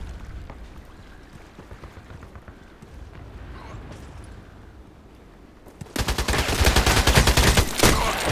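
Gunfire in the online shooter Contract Wars on the Terminal map: a few distant single shots over quiet ambience, then a loud close rapid burst of automatic fire.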